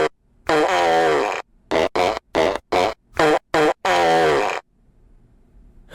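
A cartoon fart sound effect from Bob's Burgers plays as a loud, close string of raspy blasts: two long ones framing several short bursts, then quiet.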